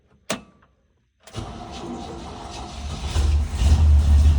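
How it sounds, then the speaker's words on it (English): Cold start of a GMC truck engine: a short click, a pause, then cranking that catches into a building, loud idle close by. "And that was a cold start too, so there's no temperature in the engine."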